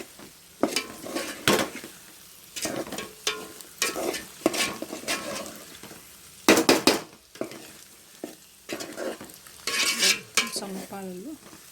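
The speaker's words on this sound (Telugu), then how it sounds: "ఎగ్గుని అన్ని విధాలు కలిపేటట్టు" Egg frying in a pan and stirred with a spoon, giving a soft sizzle under irregular scraping and clinking strokes that come close and clear.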